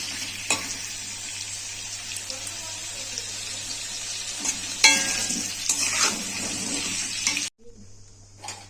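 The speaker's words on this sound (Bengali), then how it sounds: "একটা কড়া বসিয়ে দিয়েছি, তেল দিয়ে দিয়েছি, ওতে আলুটা ভেজে নেব।" Potatoes frying in oil in a wok (kadai) for a home-made chicken kasa, a steady bright sizzle with occasional stirring scrapes, close and fairly loud, cutting out abruptly near the end.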